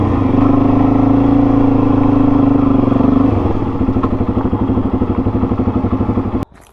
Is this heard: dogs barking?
no